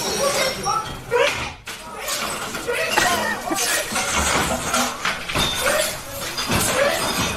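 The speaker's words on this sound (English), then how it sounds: "there is a lot of glass being thrown here." Glass is thrown and shatters inside a restaurant, with bursts of breaking and crashing mixed into laughter, voices and busy room noise.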